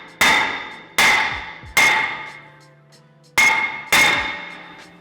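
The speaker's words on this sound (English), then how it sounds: "That's exactly why we have the hammer." A hammer strikes a rusted brake rotor on a Ford F150 five times, loud ringing metallic blows close by in an uneven rhythm, each decaying before the next.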